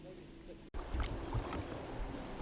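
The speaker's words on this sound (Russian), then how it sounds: "идет лодка с мотором" A motor boat passes on a river, its low engine drone steady and moderately distant beneath wind buffeting on the microphone, heard from a small PVC inflatable boat on the water.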